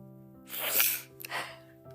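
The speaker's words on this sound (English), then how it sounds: "Hold on, I might sneeze, sorry." A single sharp sneeze with a quick inhale, followed by a short snorting burst, close and fairly quiet over a faint hum.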